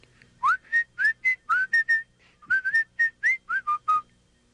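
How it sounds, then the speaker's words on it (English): A cartoon rabbit character whistles a jaunty tune in a PlayStation storybook game, a series of about fourteen clear, bright rising and falling notes in two phrases, loud and alone. "Brer Rabbit came hopping down the road, just whistling."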